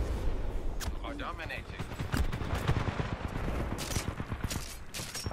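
Sentry guns firing in Titanfall 2 gameplay, with rapid bursts of automatic gunfire and sharp impacts running continuously under a voice.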